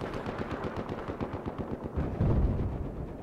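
An enemy tank fires in Battlefield 4, heard as a fairly faint rattle of rapid gunfire bursts followed by a heavier, louder boom near the end.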